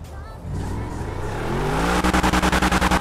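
Video game car launching from a standstill with wheelspin, the engine note climbing steadily, then breaking into a rapid, pulsing stutter as the tyres spin; loud and close.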